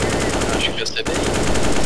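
Rapid automatic gunfire in Counter-Strike (CS:GO) on the Inferno map, dense and loud throughout, with a short gap just before the midpoint and no one talking.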